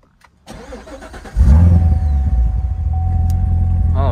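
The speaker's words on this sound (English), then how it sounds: "Let's go ahead and give this car a startup." A C7 Corvette Z06 cranks and fires up, the starter whir giving way to a loud catch, then a deep, steady idle that stays strong and close to the end.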